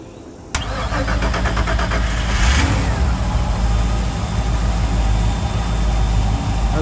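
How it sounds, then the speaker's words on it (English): Twin engines of a 2008 Mastercraft CSX 265 SS boat crank and catch from a cold start, then settle into a loud, steady, rumbling idle held close by. "And as you can hear them crank up, those were cold starts. Both engines fired up with no problem."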